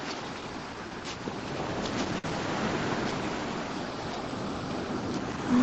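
Ocean surf rolls onto a beach at sunset as a steady broadband wash, with wind buffeting the microphone and no voices.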